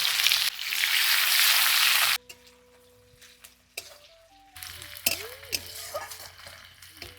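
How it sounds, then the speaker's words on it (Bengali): Chopped onion frying in a pan with cumin, bay leaf and dried red chilli for a meat curry: a loud bright sizzle for a couple of seconds, then quieter stirring and pan clatter under background music. "দিয়ে দিচ্ছি কুচনো পেঁয়াজ"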